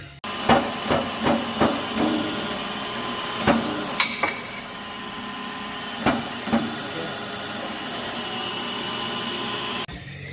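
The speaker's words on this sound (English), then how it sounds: "Taking that bearing apart that was froze up." A seized, rusty bearing is taken apart on farm tillage equipment with a rapid run of sharp metallic hammer blows, then scattered strikes and knocks over a steady background hiss.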